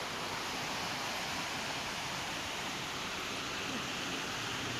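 Water rushes steadily along a stream by a banyan and tamarind tree in open farmland, a dense continuous wash of noise that stays even throughout with no clear voices.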